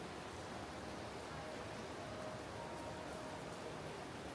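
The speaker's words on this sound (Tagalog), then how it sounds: "Grabe, lumakas yung ulan," Heavy rain pours steadily outside a mall, a dense, even hiss with no break, fairly soft and with no talk over it.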